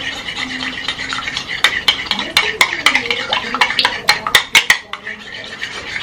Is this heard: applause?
no